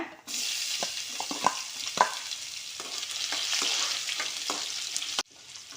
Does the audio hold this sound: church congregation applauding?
no